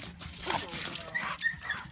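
At a bully-breed kennel on a snowy day, one dog snarls and yips at another in short, uneven bursts with whimpering tones, fairly close but not loud.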